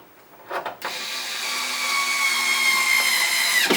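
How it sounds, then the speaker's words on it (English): A power tool driving a screw back into the top of a wine cooler, opening with a few short clicks and rattles, then a sustained close whirring drive that rises slightly in pitch. "Put the 2 screws back at the top."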